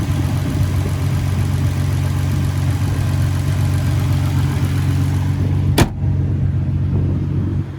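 The engine of a 2014 Nissan GT-R runs steadily at close range, a loud, even low rumble with a single sharp click near the end.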